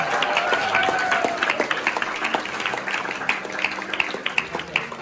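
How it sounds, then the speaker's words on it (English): A round of applause from guests at an 18th birthday party celebration, a fairly dense crowd clapping that thins out toward the end into scattered individual claps, with a brief tone or whistle early on. "can we give her another round of applause?"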